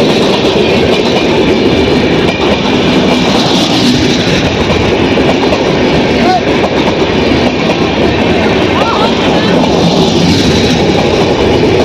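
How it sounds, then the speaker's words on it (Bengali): The Kanyakumari–Dibrugarh Vivek Express long-distance train arrives while a goods train passes the other way, making a loud, sustained close rumble with steady clickety-clack of wheels on rails and faint squeals, with a voice talking underneath. "দেখো ট্রেনটা এদিক থেকে মালগাড়ি যাচ্ছে আর এদিক থেকে ডিব্রুগড় আসছে"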